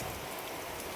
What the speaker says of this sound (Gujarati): ધોળો બધો વરસાદ જ પડી રહ્યો છે